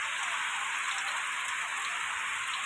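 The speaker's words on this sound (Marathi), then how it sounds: "खूपच पडतोय पाऊस" Heavy monsoon rain pours down steadily in a Konkan village, a dense, unbroken hiss of drops striking surfaces close by, with no voices over the constant downpour.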